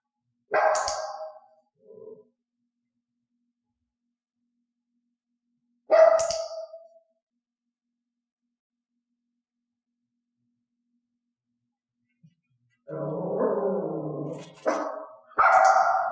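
A dog barks on cue during training in sharp isolated bursts: one short bark, another several seconds later, then a run of rougher barks and yips near the end, with silence between.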